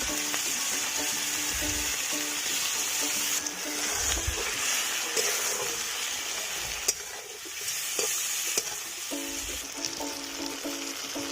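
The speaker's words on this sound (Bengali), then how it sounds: "এখন এই চিংড়ি মাছগুলো আমি কেটে ভেজে নেব।" Cut golda chingri (giant freshwater prawns) fry in oil, making a continuous close sizzle. Periodic stirring scrapes, dull knocks and a few sharp clicks sound on the pan throughout.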